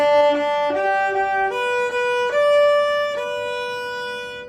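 A viola plays a smooth, connected passage of several notes from La Cucaracha, each flowing into the next without gaps, clear and solo.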